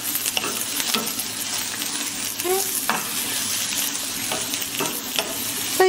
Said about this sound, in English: So you just lightly saute it at low heat. Make sure that the vegetables don't burn.